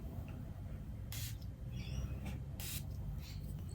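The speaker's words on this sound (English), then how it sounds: "I do like to spray this on my clothes" Two short, sharp hissing sprays of a Guerlain perfume atomizer, separated by a pause, over quiet background noise.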